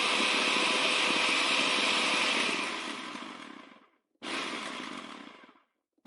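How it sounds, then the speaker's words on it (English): A small drilling machine runs as a steady, loud, harsh whirring grind that fades and cuts out, then starts again briefly and stops. "Sound of small drilling machine."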